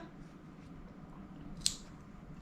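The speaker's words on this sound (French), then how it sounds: "vos ciseaux, vous coupez le fil qui dépasse." A single quiet snip of scissors cutting crochet thread, one short crisp click against a low, faint room background.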